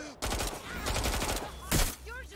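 Gunfire from the video game Watch Dogs: Legion cracks out in a dense, close burst of rapid shots, with a short pause and then another loud volley.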